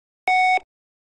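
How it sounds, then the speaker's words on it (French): A single short electronic intercom doorbell confirmation tone, clean and steady, lasting about a third of a second before cutting off into silence. "Cette sonnerie signale qu'une station intérieure correctement connectée est attribuée au bouton de sonnerie."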